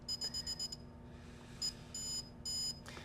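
A Greenlee SF-420AC stud finder beeps in rapid bursts for a calibration error: a quick series of short high beeps, then a pause, then a few longer beeps, close and fairly quiet.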